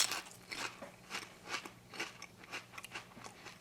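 Close, crisp crunching as someone bites into and chews a bent Lay's potato chip, with a steady run of about eight sharp crunches in quick rhythm.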